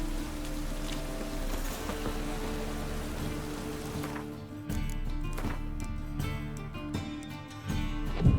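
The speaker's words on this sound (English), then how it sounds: "Running around in this rain." Steady rain falls in The Witcher 3, a dense continuous patter that shifts partway through as the scene changes, with occasional faint clops and game ambience mixed beneath.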